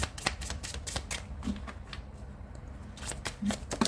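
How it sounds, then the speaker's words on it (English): Tarot cards being shuffled close up, a quick series of crisp riffling bursts and soft slaps, fairly quiet, with no one speaking. "Last shuffle."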